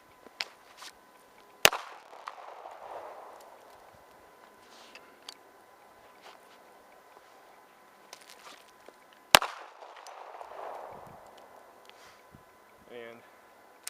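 Two sharp gunshots from a full-size 1911 pistol, fired during concealed-carry draw practice, ring out about seven seconds apart. Each loud crack is followed by a decaying echo, with faint shuffling and low handling noise in between.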